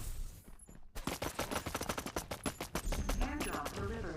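Rapid automatic gunfire in the video game Farlight 84, a dense run of sharp shots after a brief pause, fairly faint and continuous.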